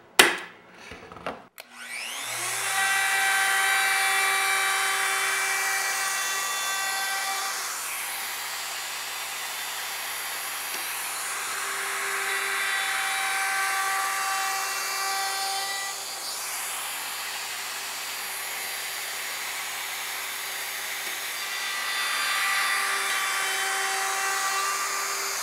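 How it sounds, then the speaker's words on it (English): A router fitted with a bearing-guided cove bit cutting a decorative edge on clamped wood paneling stock, a loud sustained high whine that rises and falls as the bit bites, after a brief startup clatter. "This little cove bit that I've got in this router here, again, it's got a bearing guide on it"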